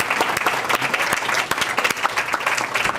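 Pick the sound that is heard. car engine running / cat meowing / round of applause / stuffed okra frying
round of applause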